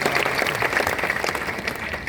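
Crowd applause at a political gathering: a dense, continuous burst of many hands clapping, steady and fairly loud throughout the short stretch without a clear fade.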